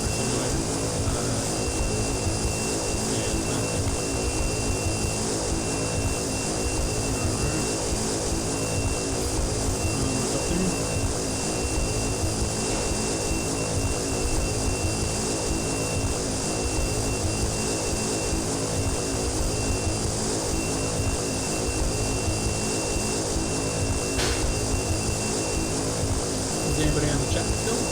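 Carenado Grand Caravan propeller plane in the flight simulator X-Plane 11: a loud, steady engine and propeller drone fills the whole stretch without letup, with a voice talking over it at times.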